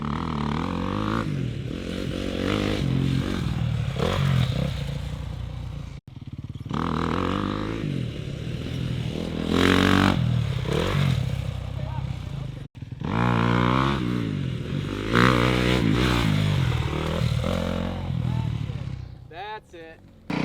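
A dirt motorcycle revs hard and accelerates toward a jump face, its engine note climbing and dropping in several rising pulls with clattering landings, loud and close, with a voice talking over parts of it.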